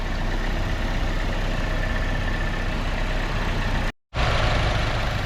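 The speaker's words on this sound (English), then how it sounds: "car is running" A Buick Encore idles steadily at close range after water pump and thermostat replacement, a continuous even hum with a brief dropout near the end, no voices.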